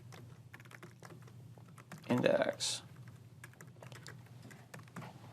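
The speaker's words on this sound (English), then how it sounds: "A lot of typing" Rapid clicking keystrokes on a computer keyboard while writing ASP.NET Core web code, a steady patter of light taps running throughout, briefly interrupted by a single spoken word.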